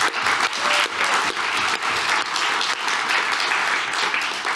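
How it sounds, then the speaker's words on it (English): An audience at a festival conference keynote breaks into sustained applause, a loud, even wash of many hands clapping throughout with no talking. "So a round of applause for everyone who made it happen."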